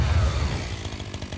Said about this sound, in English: This guy's got a chainsaw weapon.